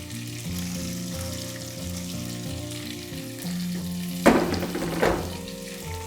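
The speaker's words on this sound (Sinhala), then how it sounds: "මෙන්න මෙහෙම හොඳට කලවම් කරගෙන විනාඩි 2ක් විතර මේක ටෙම්පරාදු කරගන්න ඕනේ" Dry prawns, chili and red onion stir-fry in a pan Sri Lankan style, giving a steady, close sizzle over a low background hum, with two louder crackling bursts as the mix is stirred.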